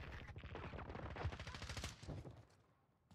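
Gunfire in the Call of Duty Cold War video game rattles out in rapid, dense bursts, loud and close at first, then thinning and fading away toward the end.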